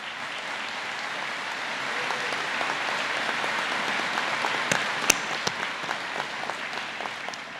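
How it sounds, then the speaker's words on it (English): Sustained applause from a large audience at a 2018 college commencement ceremony, steady and fairly loud throughout, with a few sharper individual claps standing out near the end. "give yourselves a round of applause"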